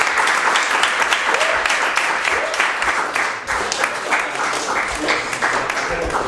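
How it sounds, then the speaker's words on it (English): Steady applause from a crowd at a football club presentation night for an award recipient, close and continuous for the whole stretch. "everyone just give them a round of applause"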